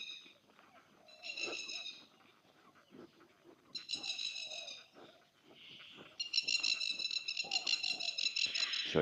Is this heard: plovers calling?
yes